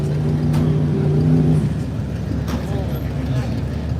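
Classic cars roll slowly and park at an outdoor car show in Glendora, California, with a steady low engine rumble and a brief deeper revving tone early on, under crowd chatter and voices.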